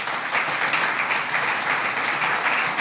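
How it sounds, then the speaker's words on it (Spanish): Loud, dense audience applause at the AUPA awards gala for Racing club member Mauricio Gómez as he comes forward to receive his award, sustained and even throughout. "Un fuerte aplauso para Mauricio"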